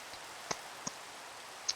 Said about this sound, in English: it was just raining